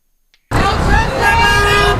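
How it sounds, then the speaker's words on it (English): After a short silence, loud car horns blare together in a sustained, overlapping honking, close by, with voices mixed in. "Honk for Cyrus"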